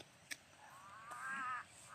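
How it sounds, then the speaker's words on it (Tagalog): Out on a mountainside, a crow gives a single drawn-out caw, faint and distant, over quiet background with a couple of brief knocks nearby. "Uwak ah."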